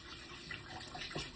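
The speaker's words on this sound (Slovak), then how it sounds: "Počkajte, opláchnem ruky." Tap water runs steadily over hands being rinsed in a kitchen sink during sourdough flatbread making, a soft continuous splash with a slight change near the end as the hands move under the stream.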